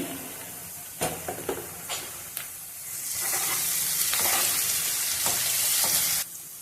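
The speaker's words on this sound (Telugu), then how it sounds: "ఇలా బాగా కలుపుకుంటూ అయితే ఫ్రై అయితే చేసుకోవాలండి ఇవి" Steady sizzling of garlic and coriander frying in a pan with several sharp scraping stirs early on, then a louder continuous sizzle that cuts off near the end.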